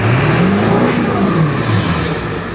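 Ford Power Stroke diesel truck engine, not yet warmed up, revving loudly up close, with deep rising and falling throttle swells that ease off slightly toward the end, with no voices over it.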